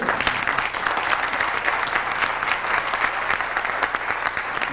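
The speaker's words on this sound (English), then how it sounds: "I would say all of you in unison should clap for that departed soul." Sustained applause from an audience at a FICCI 50th anniversary party, a dense, even wash of many hands clapping in tribute, loud and continuous throughout with no talk over it.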